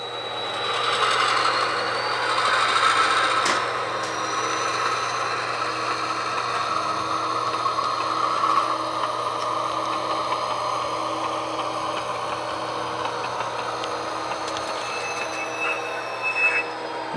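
A locomotive and freight cars moving through a switching yard in Huntington Beach and Anaheim, a steady rumble and rolling noise with high wheel squeal drifting above it, a sharp clank early on.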